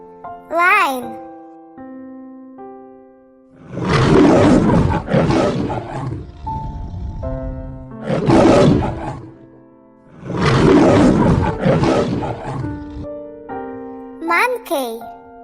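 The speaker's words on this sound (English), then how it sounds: "Lion." A lion gives three long, loud, rumbling roars, each lasting a second or more with pauses between, set against a light musical backing with short chirpy sounds at the start and end.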